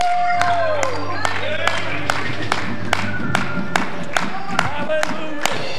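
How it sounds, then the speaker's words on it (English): A Baptist church congregation claps in praise in a steady, evenly spaced rhythm, loud and close, over a sustained organ or keyboard chord with voices calling out. "Clap your hands to the Lord, somebody."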